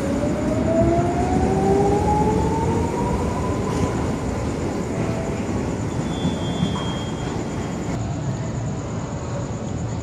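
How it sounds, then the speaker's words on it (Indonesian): A Tokyu 8518 KRL electric train is shunted and releases its brakes, giving a steady rail rumble, rising and falling whines, and a brief high hiss partway through, with no talk. "Nah, ini dilangsir keretanya, teman-teman. Suara rilis remnya sangat pas sekali ya."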